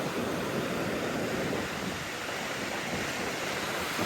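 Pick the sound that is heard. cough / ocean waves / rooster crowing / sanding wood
ocean waves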